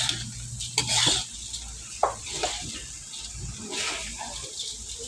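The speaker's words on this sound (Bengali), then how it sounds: "আগে সুন্দর করে ভেজে নিতে হবে।" Food frying in a pan on a home stove, with soft sizzling under intermittent stirring, clinks of utensil against the pan and brief scraping noises, fairly quiet and close.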